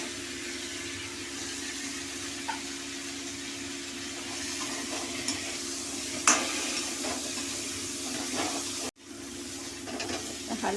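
Chunks of elephant foot yam and potato fry gently in oil in a pan, giving a soft steady sizzle with occasional stirring clicks throughout, no talk.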